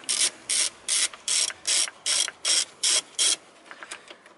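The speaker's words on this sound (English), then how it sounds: "I rotate this my tool so long that this bolt is free." Ratchet tool loosening a bolt on a Toyota VVT-i engine, giving nine quick, even bursts of clicking at close range, followed by a few fainter scattered clicks.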